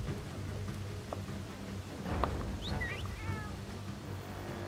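Cat meowing in a video game, a few short rising meows over a quiet rainy background with a faint low rumble, fairly soft.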